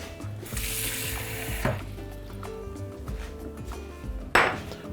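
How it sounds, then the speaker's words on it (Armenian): Cold water drawn into a bowl in a home kitchen, splashing and pouring hiss with metallic clinks and a sharp knock near the end, close and fairly quiet. "թասով սառը ջուր ենք վերցնում"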